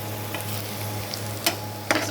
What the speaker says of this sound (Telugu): సో ఇట్లా వేయించుకుంటూ ఉండాలి